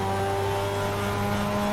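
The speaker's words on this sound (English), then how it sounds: "as the twin rotor engine buzzes like a bee, propelling the car across the line" A Mazda RX-7 Spirit R with a twin-rotor engine accelerates hard toward the finish line at Silverstone, giving a loud, close, steady high buzzing drone with strong sustained tones and no speech.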